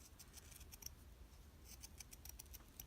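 Scissors snip through burlap in a quick run of short, soft cuts, faint and close over a quiet room.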